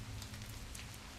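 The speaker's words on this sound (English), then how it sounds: "Did a good job on the rain, also here, and the sound effect of it." Soft, steady patter of rain falling on a surface in the video game Lamentum, a faint continuous hiss with scattered drops.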